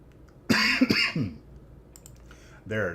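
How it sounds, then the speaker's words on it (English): A person coughs near the mic during a Pokémon card box break stream, a couple of sharp, throaty bursts in quick succession, followed by a brief voiced sound after a pause. "There's that cough."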